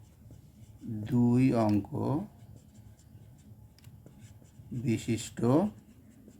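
Faint scratching of writing during a Class 9 mathematics lesson, heard under a teacher who speaks in two short bursts with quiet gaps between.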